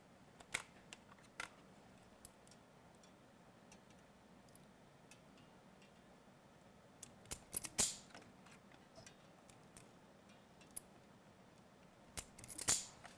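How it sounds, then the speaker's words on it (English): Electrical wires are trimmed and stripped with a hand tool during vehicle wiring work, giving quiet, sparse snips and small clicks scattered through a hushed room, with a short cluster of sharper cuts near the middle and end. "That's where I'm going to trim my wires. Then we'll strip both of them."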